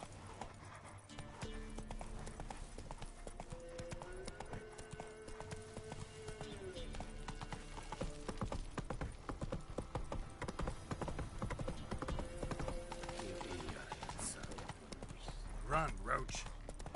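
Roach the horse galloping in The Witcher 3 video game, with rapid continuous hoofbeats close by, an occasional snort and a voice speaking over it.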